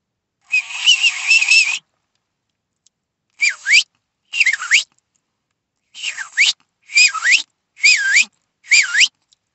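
A person whistles without fingers by folding the tongue, producing one long wavering tone followed by six short gliding whistles in quick succession, loud and close, with no other sound.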